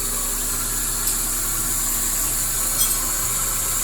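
A Toyota Corolla All New / Great Corolla radiator fan runs at high speed, a steady whooshing hum with constant engine drone beneath it and no talking.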